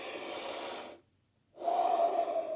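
A single deep breath, drawn in audibly and then let out after a short pause, close and clear with no talk.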